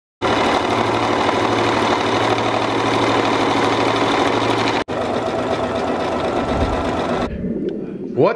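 A sewing machine stitching kimonos runs close and loud as a steady, fast mechanical whir, stops briefly, resumes, then cuts out near the end, leaving a few quieter handling sounds.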